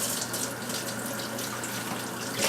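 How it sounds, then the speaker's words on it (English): Celery stems are rinsed under a running kitchen tap, a steady close splashing hiss of water falling into a sink throughout, with no voices. "I'm going to start with these 4 stems here, so I'll wash those."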